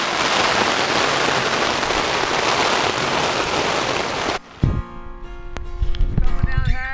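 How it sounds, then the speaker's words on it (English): Hard, windy rain pours down steadily in the Newfoundland wilderness, a loud continuous hiss for about four seconds, then cuts to quieter sounds with scattered clicks and knocks. "Windy, hard rain."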